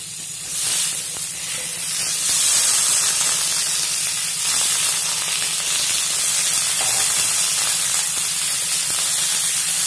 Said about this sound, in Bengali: এখন সিমগুলোকে ঢেলে দিচ্ছি।